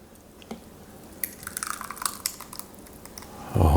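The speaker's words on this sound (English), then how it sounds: "let's pour some into a bowl" Thick cold gazpacho soup is poured into a bowl, a soft wet trickle with small drips and splats that thickens toward the end, close by and quiet.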